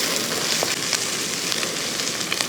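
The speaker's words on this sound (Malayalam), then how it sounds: "ഇനി ഒന്ന് ഇളക്കി കൊടുത്ത് ഇതെല്ലാം നന്നായിട്ടൊന്ന് വഴറ്റിയെടുക്കണം" A curry mixture with ginger, garlic and taro sizzles steadily in a hot pan while being stirred, a dense crackling hiss with small pops running throughout and no voices.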